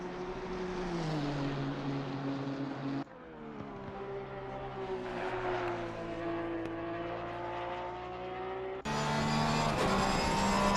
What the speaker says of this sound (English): I think A. Sherman will be the next one around in the Porsche.